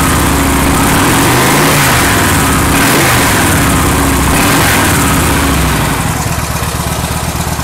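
A loud 2014 Victory Hammer 8-Ball motorcycle with an aftermarket exhaust, deep and throaty, rumbles and revs continuously, close by, with no voices.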